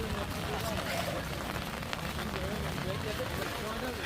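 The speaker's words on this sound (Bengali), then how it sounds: "কেমনি যাবা? বৃষ্টি একটু কমুক, অনেক বৃষ্টি।" Heavy rain falls at Tanguar Haor in Bangladesh, a dense, unbroken roar of drops hitting surfaces all around, loud and steady, while people talk beneath it.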